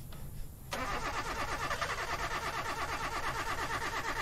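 A video game car engine cranks and catches after a brief quiet moment, then settles into a steady, rhythmic idle that stays loud and close.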